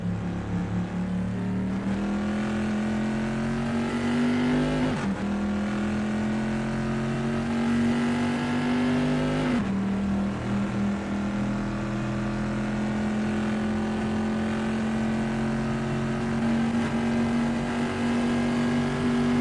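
Bizzarini GT 5300 race car engine in a racing game at Imola's Tamburello, pre-1973 class: a loud, steady engine drone climbing in pitch, dropping briefly at two gear shifts, then pulling higher again, with no talking.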